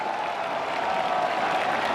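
A dense racecourse crowd at Sha Tin roars and cheers during a horse race, a loud, continuous wash of voices and clapping that holds steady throughout.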